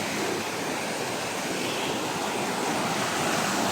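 Loud, continuous wash of surf and rushing water fills the whole clip, a steady roar with no pauses or voices.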